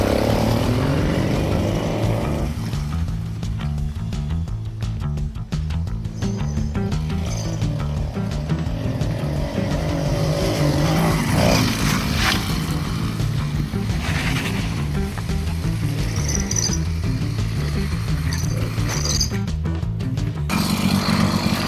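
Small engine on a motorized bicycle idling and running steadily after clutch regeneration, a continuous close mechanical drone with slight revving throughout.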